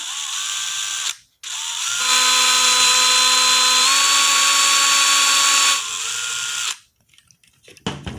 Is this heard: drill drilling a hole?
yes